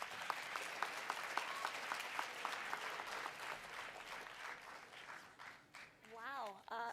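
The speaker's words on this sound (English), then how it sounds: "Give everyone a big round of applause for those presentations" Applause from an audience at a community forum event in Vancouver: a steady patter of many hands clapping, moderately near, fading out toward the end as a voice begins speaking.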